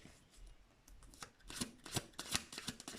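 Tarot cards being laid out one after another, soft papery slides and snaps that grow busier toward the end, close and quiet with no talking.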